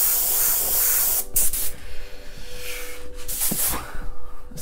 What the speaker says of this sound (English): Spray can sounds good.